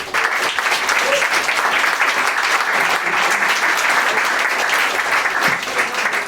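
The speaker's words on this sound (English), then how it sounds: "can we just all please give Mark Cocking another big round of applause, please" Applause from a conference audience at an occult-themed gathering, a dense and loud wash of many hands clapping that holds steady for the whole stretch with no voices over it.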